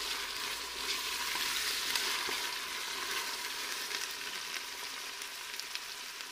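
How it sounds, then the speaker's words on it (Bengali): A paste of garlic, cumin, ginger and onion with turmeric and chili frying in a pan for a beef curry, a faint steady hiss and crackle with occasional soft ticks, quiet and without voices. "সেজন্য আমি এখন এই মশলাগুলোকে ভালোভাবে কষিয়ে নেব"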